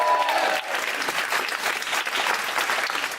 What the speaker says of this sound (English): Can we have a big cheer for them, please?